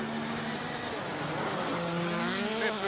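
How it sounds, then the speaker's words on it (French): Hyundai WRC rally car driven by Hänninen on a snowy Swedish rally stage, a loud, continuous high-revving engine note holding steady and sweeping in pitch, close by, with no talk over it. "voici donc la Hyundai avec Hänninen sur le même secteur"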